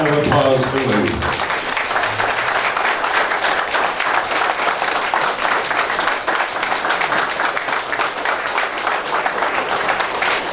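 An audience applauds retired General Lewis MacKenzie at a presentation, the dense clapping swelling right after a brief announcement and holding steady and loud for about ten seconds.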